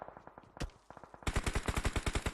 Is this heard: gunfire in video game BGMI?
yes